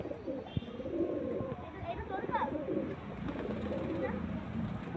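Pigeons coo in low, rounded bursts close by, a steady murmur of calls with a few faint chirps, and a voice talks over them.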